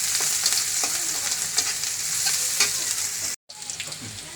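Garlic paste fries in a hot pan, a loud steady close sizzle with faint stirring scrapes, cut by a very brief silence near the end.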